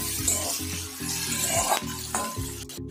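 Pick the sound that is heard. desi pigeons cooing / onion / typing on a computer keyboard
onion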